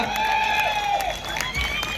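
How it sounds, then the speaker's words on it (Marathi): Spectators applaud and cheer at a wrestling bout between two Maharashtra champion wrestlers, a short, loud burst of clapping mixed with crowd noise and whistling-like tones. "टाळ्या वाजवा जरा"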